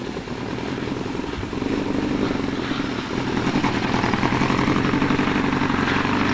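A Suzuki motorcycle idles nearby, a loud, steady engine rumble throughout, growing slightly louder partway through.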